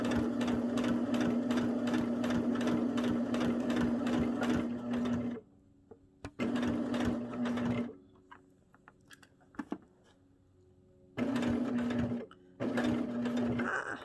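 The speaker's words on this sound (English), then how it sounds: "And then I'm just gonna sew along." Close, loud runs of a sewing machine stitching a mitered corner, a long steady burst, a pause with small handling clicks and taps, then two shorter bursts.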